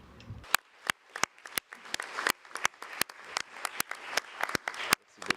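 A conference audience at the closing of the 14th Session of the Subsidiary Committee of the 1970 Convention applauds: a moderate spread of claps with sharp individual hits standing out, fairly even throughout.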